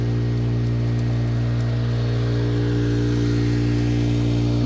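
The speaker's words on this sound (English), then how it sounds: "Motor's working good over there." A gold prospecting dredge motor runs beside a New Zealand river as a loud, steady, continuous engine drone, close and alone with no talk.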